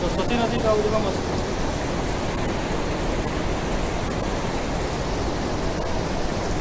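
Water rushes at the source of the Saraswati river beside Mana, India's last village, a loud, constant roar of churning flow with no pauses.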